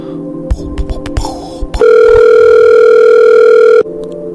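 Ringing tone on an outgoing Google Voice phone call: a few short clicks and taps, then one loud, steady electronic tone held for about two seconds before it cuts off abruptly.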